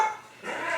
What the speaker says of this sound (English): Who else has dogs that barks at every noise that's ever made?